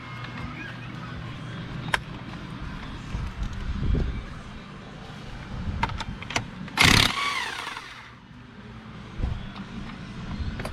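A Raptor engine with a bad one-way starter bearing is pull-started by its starter rope: scattered rope yanks and brief rough sputters, with one loud burst midway, sound close by under quiet, intermittent talk.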